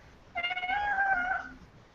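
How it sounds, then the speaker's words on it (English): A cat gives one soft, drawn-out meow of about a second, fairly faint against a quiet indoor background hiss. "I hear a kitty."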